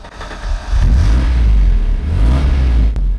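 A Ford Granada Scorpio 4x4 engine turns over and settles into a running rumble, loud and close, its low throb rising briefly about halfway through before holding steady.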